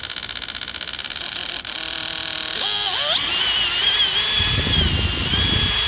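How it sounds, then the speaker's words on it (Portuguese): A power drill whirs in short bursts, then spins up to a steady high-pitched whine as it bores into a Roman roof tile, with a grinding rumble toward the end. "Agora eu vou começar o furo."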